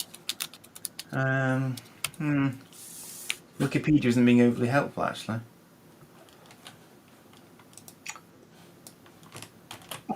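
Computer keyboard typing clatters in quick bursts close by, running between and after stretches of conversational speech, with sparse clicks continuing once the talking stops.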